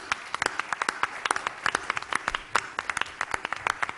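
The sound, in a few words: audience applause for speakers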